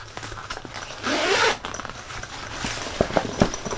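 A camera backpack zipper is pulled open in one quick, raspy sweep, followed by soft rustling and a few light clicks of fabric and handling.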